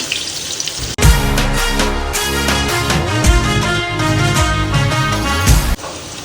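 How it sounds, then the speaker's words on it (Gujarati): Chopped onions hit hot oil for mag pulav. A loud, sudden sizzle bursts in after about a second, hisses steadily up close, then cuts off abruptly near the end. "તેલ ગરમ થાય એટલે આપણે બધા મસાલા એમાં નાખી દઈશું. તો પહેલાં આપણે ડુંગળી નાખીશું."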